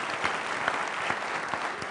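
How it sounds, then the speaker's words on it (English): Audience applause at a plenary session, a dense even wash of many hands clapping at moderate distance, steady throughout with no voices. "Little hand of applause for Chris here."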